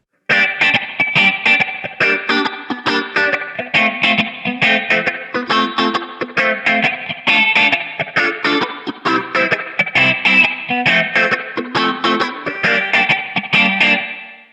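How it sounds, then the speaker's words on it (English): A clean electric guitar plays a steady reggae rhythm pattern, swirling with a phaser effect and washed in springy reverb trails, loud and continuous throughout. "it's reggae, so there's a phaser. And I also threw on a spring reverb"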